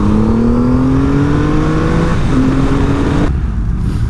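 A 2020 Triumph Rocket 3 motorcycle accelerates hard, its loud engine note climbing steadily in pitch, briefly dropping at a gear change, then rising again before cutting away abruptly.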